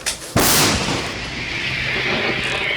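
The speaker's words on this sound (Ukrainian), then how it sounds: "Ми на позиції самохідної гаубиці, яка на жаргоні військових працює на шнурку" A single heavy artillery blast from an M109L self-propelled howitzer erupts close by, a sharp boom followed by a long rumbling, hissing decay with no voices.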